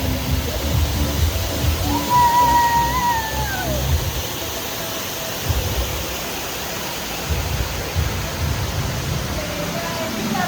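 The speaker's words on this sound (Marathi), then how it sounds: "आता आम्ही चाललोय या धबधब्याच्या आतमध्ये." A waterfall at the Imagicaa theme park gives off a constant, hissing roar of falling water, close and steady, with brief voices rising above it now and then.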